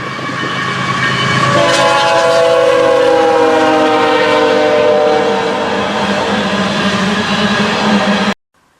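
A BNSF freight train rolls past with its horn sounding in long sustained blasts over the rumble and clatter of the cars, loud and close, then cuts off abruptly near the end.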